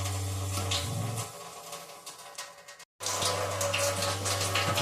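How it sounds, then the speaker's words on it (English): Water runs steadily from a fully opened faucet of a VonWater 600G reverse osmosis under-sink system, a continuous close splashing hiss with a low pump-like hum, broken by a brief silent gap. "The faucet's all the way open, so this is running continuously now."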